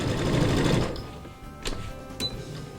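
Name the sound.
sewing machine stitching long edges of fleece headband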